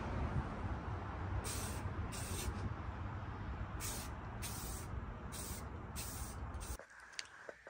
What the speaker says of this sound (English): So I'm just gonna put some clear coat on it right now.